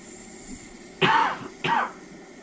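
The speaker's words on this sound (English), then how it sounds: "Sorry about the coughing too" A man with a sore throat gives two close, sharp coughs about half a second apart against quiet room background.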